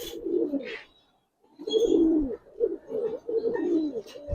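Silver khaki Giribaz pigeons coo up close in soft, throaty bursts that repeat after a short pause, with faint chirps mixed in.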